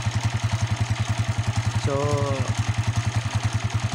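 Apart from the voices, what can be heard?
motorcycle engine running after one-click start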